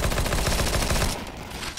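Rapid, loud bursts of gunfire in the video game CS GO, a fast rhythmic string of shots that cuts off near the end, leaving a fainter tail.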